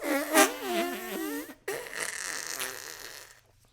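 A human voice imitates a fart with a wavering, buzzy vocal sound, followed after a brief break by a longer raspy, sputtering blast that trails off.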